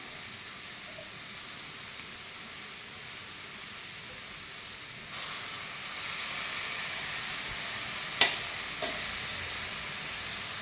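Fried rice sautéed and stirred in a pan with soy sauce, giving a steady low sizzle with soft stirring scrapes and two sharp clinks near the end, no talking.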